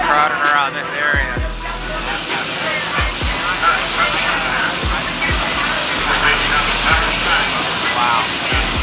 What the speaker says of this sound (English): they just landed a helicopter over there to airlift somebody out of here